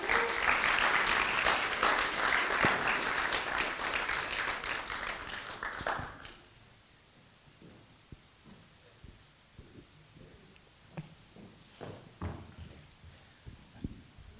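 An audience at a live performance event claps loudly for about six seconds, then the applause cuts off, leaving a quiet room with scattered faint knocks and thumps.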